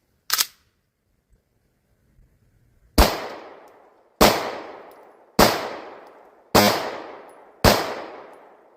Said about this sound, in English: I'm just going to put a few rounds in the center and see where the optic is and see how it functions.